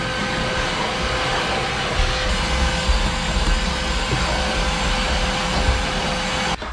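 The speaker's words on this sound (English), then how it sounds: "should we vacuum now?" A vacuum cleaner runs steadily inside a vehicle during a car sound system install, a loud continuous whine and roar that holds constant throughout before cutting off near the end.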